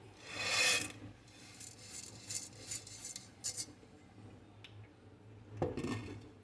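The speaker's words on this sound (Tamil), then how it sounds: "கடலைப்பருப்பும் வறுத்தாச்சு இதை கொட்டிடுறேன்" Roasted chana dal for homemade idli powder being poured out, a quiet dry rasping rattle of lentils sliding across metal, with a loud rush at the start, scattered softer patters and a final clatter near the end.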